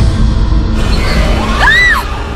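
Screaming heard over a loud, noisy background: a few rising and falling shrieks cluster toward the end, sharp and fairly close.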